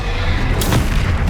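A Bombarda explosion spell fires during combat in Hogwarts Legacy, heard as a short, loud, punchy boom with a sharp crack and a low thudding rumble, set against other battle noise.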